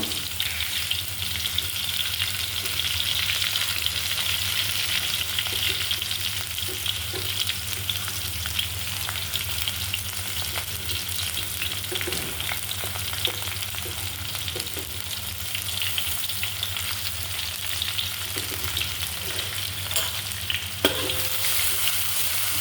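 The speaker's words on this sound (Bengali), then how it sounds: "প্রথমে পরিমাণ মতন তেল নিলাম নিয়ে তেজপাতা একটা দিয়ে তারপরে পেঁয়াজ কুচিগুলো দিয়ে দিব" Onions, a bay leaf and ginger frying in oil, a steady close sizzle running throughout with occasional stirring clinks, no voices.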